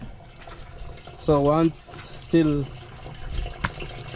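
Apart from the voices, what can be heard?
water running out of an opened tap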